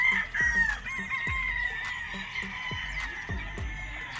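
Roosters crow repeatedly at a gamefarm, several long cock-a-doodle-doo calls layered over clucking chickens and sharp short bird calls, close and lively.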